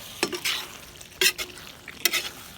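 Cossack kulish being stirred in a pot, giving three distinct scraping swishes with a light sizzle beneath, close and clear with no talk.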